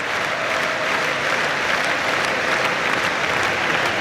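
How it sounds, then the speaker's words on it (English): Football supporters at a Liverpool versus West Ham United Premier League match clap steadily in tribute, a dense, even wall of applause filling the stadium with little speech over it. "Even some of the West Ham United supporters, in a touching manner, are joining in with a clapping in memory of the Portuguese international."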